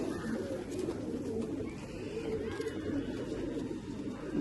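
Pigeons from an old domestic flock cooing softly at moderate distance, low murmuring calls under a steady background hum.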